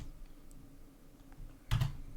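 Faint keystrokes on a computer keyboard, a few quiet scattered taps followed by a louder cluster of clicks near the end.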